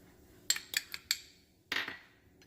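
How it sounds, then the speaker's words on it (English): A few sharp clinks and taps from spices being combined in a bowl for a rub for baked chicken thighs, spaced out and fairly close, with a longer scraping clatter near the end. "combine all of these spices into one bowl and make a"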